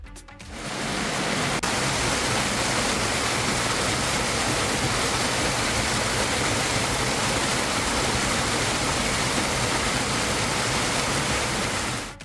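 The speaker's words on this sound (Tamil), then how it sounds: "படிக்கட்டுகளில் மழைநீர் அருவி போல் பெருக்கெடுத்து ஓடியது" Heavy rainwater gushes like a waterfall down hill temple steps toward a temple tank during a downpour, a dense, steady roaring wash that holds constant throughout with no voices.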